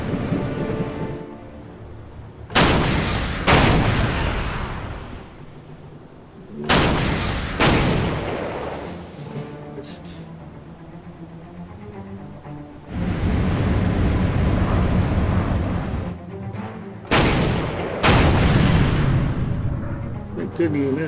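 Anti-aircraft guns fire in Order of Battle WW2, an Arctic convoys naval scenario, in several loud booming blasts with long rumbling tails and a steady roaring background, under occasional talk.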